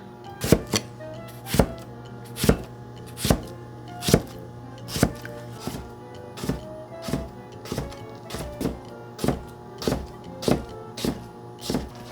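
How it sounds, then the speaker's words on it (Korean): Knife chopping thin slices of pickled radish (ssammu) on a cutting board, steady sharp knocks repeating roughly twice a second, close and clear with no talking. "쌈무 이렇게 물기만 좀 짜가지고 이렇게 썰면 돼요"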